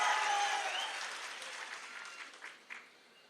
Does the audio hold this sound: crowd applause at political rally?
yes